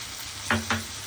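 Shrimp and tomato curry fries quietly in a pan, a soft steady sizzle broken by two quick spoon-stirring scrapes close by.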